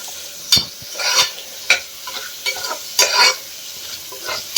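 Country chicken being stirred with turmeric powder in a pan, giving several distinct scraping, sizzling strokes in an uneven rhythm, close and fairly loud with no voices.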